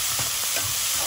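Whole green chillies sauté in hot oil in a pan for a prawn biryani, giving a steady, close sizzle with a few soft stirring scrapes over a brief stretch.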